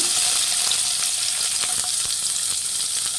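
Garlic frying in about three tablespoons of hot oil in a pan for a greens curry, a loud, steady crackling sizzle that fills the whole stretch without a break, close up and with no talking.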